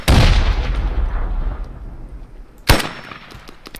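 Gunfire in the Squad video game: a loud burst of shots with a long decaying echo, then a second sharp blast followed by scattered quieter pops.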